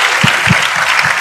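An audience applauding at a speech by Anies Rasyid Baswedan, a loud, close burst of many hands clapping with a few distinct low thumps standing out in the dense patter.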